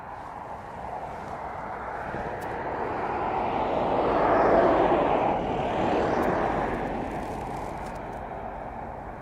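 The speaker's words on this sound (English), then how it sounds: "we have another aircraft just about to touch down." An aircraft touches down at East Midlands Airport, its engine roar swelling steadily to a broad peak midway before easing off, heard from a distance with no talking.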